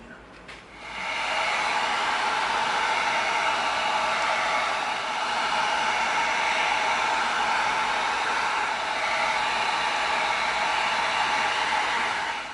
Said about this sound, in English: Let's get our heat gun out.